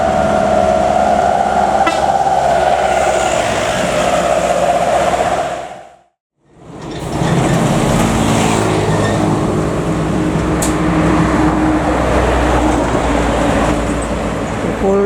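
Semarang Jaya passenger train rolling past at close range, a loud continuous rumble of wheels and cars with a steady whine early on, a brief near-silent gap, then dense clattering rail noise resuming to the end.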